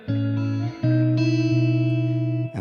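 Sustained synth tones pass through a Pulsar Primavera reverb plugin set toward a darker tone, held notes changing pitch in steps with a smooth, lingering tail, clear and fairly loud alone.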